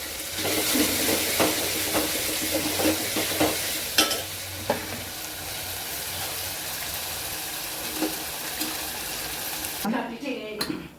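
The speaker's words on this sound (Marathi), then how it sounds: "दोन तीन छान परतून घ्यायचं आहे कोथंबीरला पण" Coriander leaves sautéed in a hot tempering for plain toor dal, a steady close sizzle broken by scraping stirs of a spoon against the pan, ending with a brief quieter clatter.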